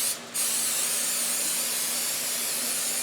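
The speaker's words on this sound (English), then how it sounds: "I'm just going to spray that with a non-stick cooking spray." A can of non-stick cooking spray hisses steadily onto a mini muffin pan, one short burst then a long continuous spray lasting a few seconds, close and fairly loud with no talking.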